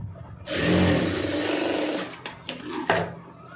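A sewing machine stitching a blouse starts up with a fast, close mechanical whir, runs steadily for about two seconds, then stops with a few short bursts and clicks, and no talking.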